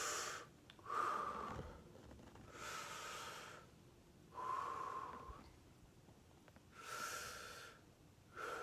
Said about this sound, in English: you can really make the noise like, you know, like when you're meditating of breathing, inhaling, exhaling